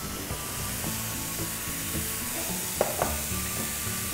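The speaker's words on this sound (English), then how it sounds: "give it a good stir, and some soy sauce" A spoon stirs salt, pepper powder and seasoning into a sesame toast mixture, making soft repeated scraping and clicking strokes in a steady rhythm against a hissy background, with no talking.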